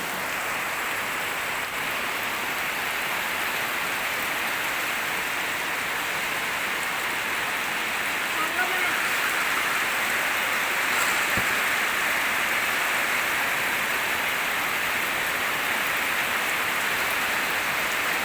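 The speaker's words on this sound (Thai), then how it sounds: "พี่น้องฝนตกแล้วฝนตกแล้ว" Steady rain falls continuously, a dense even hiss of drops on surfaces with no voices.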